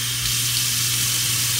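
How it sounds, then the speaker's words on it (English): Tap water runs steadily into a container during a mobile home renovation, a continuous close hiss with no pauses and no talking. "I filled this thing up with water."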